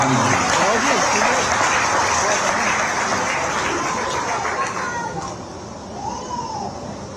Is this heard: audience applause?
yes